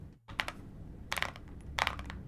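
Keys on a mechanical keyboard bottom out in three quick, close clusters of clattering clicks with short pauses between them.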